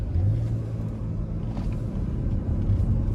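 A 2018 Cadillac XT5 Platinum AWD cruises in all-wheel-drive mode, with a steady low road-and-engine rumble filling the cabin at an even level and no voices over it.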